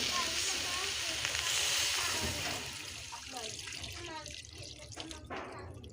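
Coconut milk poured into a pan of cooking jackfruit, a liquid splashing rush that softens into bubbling and faint sizzle, close, with a voice speaking partway through.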